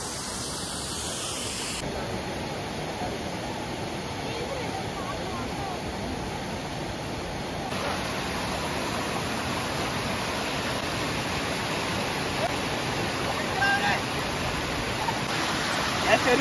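Thooval waterfall in Idukki roars steadily as a broad, continuous rushing of water, close and even in level throughout, with no clear voices above it.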